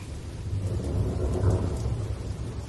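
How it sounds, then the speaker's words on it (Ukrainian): Deep, rolling thunder from a starting thunderstorm rumbles loudly and steadily throughout, swelling slightly near the middle, with no voices. "ми зрозуміли, що починається гроза"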